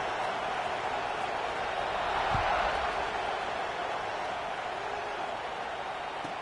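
A college football stadium crowd at kickoff makes a steady, dense roar of cheering that swells slightly and holds throughout.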